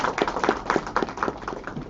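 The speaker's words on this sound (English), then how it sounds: "So a big round of applause for all the dignitaries" Audience applause greets dignitaries at a college annual day prize distribution ceremony, a steady crowd clapping with a loosely rhythmic, pulsing beat that stays fairly even throughout.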